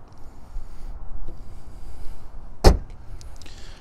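Hood of a 2018 BMW 530e plug-in hybrid slamming shut onto its dual latches: a single sharp, loud thud against faint background noise, and nothing else follows.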